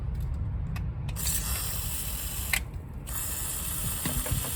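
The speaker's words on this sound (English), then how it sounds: "Get some WD-40 on them first of all." Short hissing bursts of WD-40 lubricant sprayed onto bolts while a thermostat is replaced on a MK2 Golf, mixed with mechanical clicks and ratcheting in a garage, with no talking.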